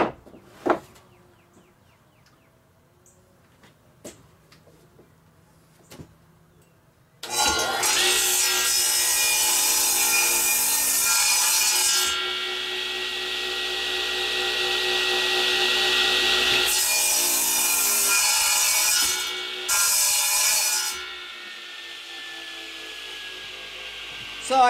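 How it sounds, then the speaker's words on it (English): A radial arm saw cuts through lacewood in a workshop: after a few quiet clicks, a loud sustained high whine and rasp of the blade biting wood runs for about twelve seconds, then eases and returns briefly before spinning down. "Not the bandsaw, I'm sorry, my radial arm saw, which will give me the best cut on this."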